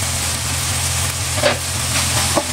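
Garlic and onion sautéing in a pan for a Filipino pork and vegetable stir-fry, a steady close sizzle with a few brief stirring scrapes, no talking.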